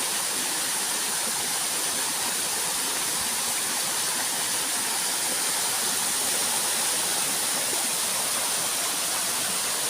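A steady, dense roar of falling water fills the whole stretch, constant and close, with no voices or other sounds.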